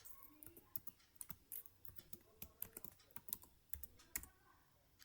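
Soft, quick taps on a computer keyboard while a password is entered, an uneven patter of faint clicks in a quiet room without any talking.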